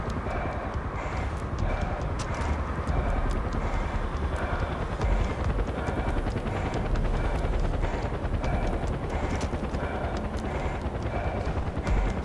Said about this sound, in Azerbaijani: Vertolyot gəlir.